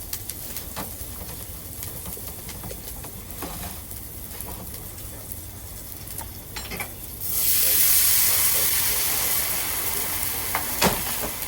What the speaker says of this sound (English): I'm going to let that deglaze now. I'm literally just going to let it reduce.